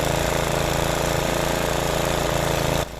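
A self-propelled petrol lawn mower engine runs steadily at close range, loud and continuous with an even buzzing drone, then drops abruptly in level near the end.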